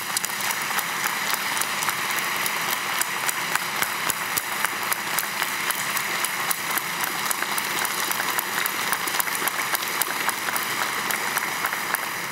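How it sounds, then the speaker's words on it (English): A convention audience applauds during the installation of national officers, steady broadband clapping holding evenly for the whole stretch at moderate loudness with no talk over it. "Let's give them a round of applause."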